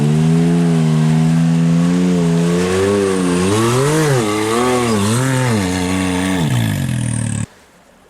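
Yamaha YXZ side-by-side engine revving hard on a hill climb, loud and close, with rising and falling pitch sweeps as the throttle is worked, cutting off abruptly near the end.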